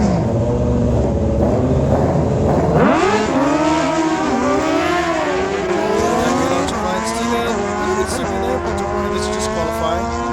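Racing motorcycles roar off the line at Maui Raceway Park's drag strip during a bracket race, engines revving loud and close, then rising in pitch through rapid gear changes as they pull away, with continuous harmonic engine whine throughout.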